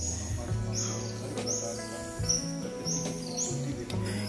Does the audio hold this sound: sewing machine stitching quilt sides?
no